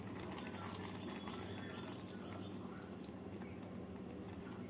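Bottle gourd curry bubbling in a pot, a steady dense simmer with a constant watery hiss and fine popping, faint and unbroken throughout.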